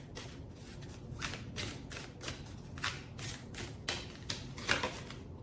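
A deck of oracle cards is shuffled by hand at a late-night love reading, giving a run of quick, crisp riffling bursts in an uneven rhythm, close and moderately quiet.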